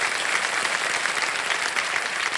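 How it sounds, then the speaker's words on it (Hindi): A studio audience on a TV quiz show claps loudly to welcome a contestant's parents, a dense, even wash of applause from start to finish. "आपका स्वागत करते हैं हम तालियों के साथ"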